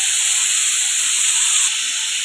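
Grated bottle gourd hitting hot ghee in a pan for halwa gives a steady, loud, close sizzling hiss that holds evenly and softens slightly near the end.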